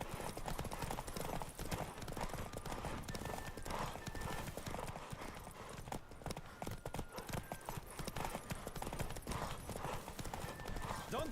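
Rapid, steady hoofbeats of a galloping horse in the video game The Witcher 3: Wild Hunt run throughout, with an occasional whinny over a constant rushing background.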